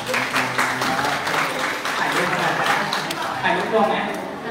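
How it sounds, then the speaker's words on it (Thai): Audience applause at a Thai hosting event, steady clapping lasting throughout at fairly close range, mixed with voices and cheering. "ขอเสียงปรบมือให้น้องด้วยค่ะ"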